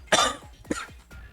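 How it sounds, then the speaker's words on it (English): Two or three harsh, close coughs in a quick series, loud and abrupt. "See, I'm already coughing"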